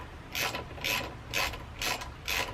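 Wrench ratcheting while brake caliper bolts are loosened on a 2006 Suzuki GSXR600 K6 motorcycle: five evenly spaced bursts of clicking, close and fairly quiet, with no talking.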